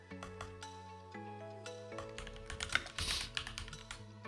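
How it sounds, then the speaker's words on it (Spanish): Quick runs of key taps on a computer keyboard, irregular clicks and clacks close to the microphone over a low sustained tone, with a brief burst of brighter clatter near the end. "podemos utilizar la escritura normalmente con el teclado"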